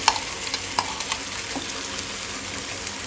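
In a pan, ground red chili masala fries with sautéed onions for a Goan fish ambot tik, giving a steady close sizzle with faint scraping stirs and small clicks throughout and no voices.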